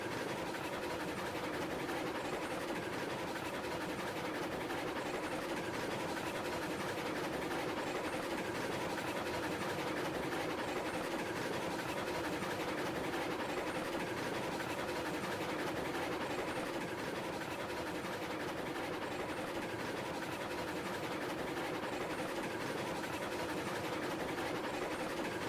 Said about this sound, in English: The wheels probably are all glitched out on the train right now.